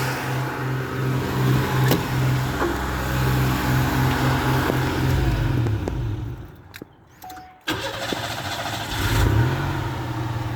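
A 1988 XC's 3.8 red dot V6 runs steadily at close range, its low rumble shifting and briefly dipping as the transmission kicks down, then settling back into a steady idle.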